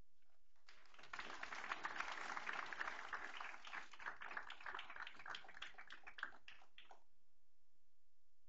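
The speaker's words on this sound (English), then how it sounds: "Let's give our AP scholars with honors another applause." Audience applause at a school board meeting honoring AP scholars: a dense, steady wash of many hands clapping for about six seconds, fairly faint and distant, tapering off at the end.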